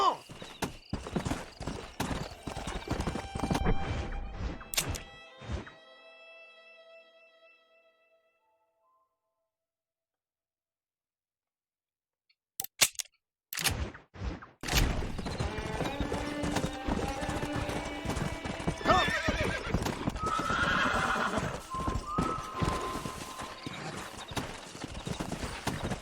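Horse hooves clip-clopping and a whinny in the Red Dead Redemption video game, with rapid hoofbeats first, then a near-silent gap, then loud galloping resumes under game sounds, and a voice speaks briefly.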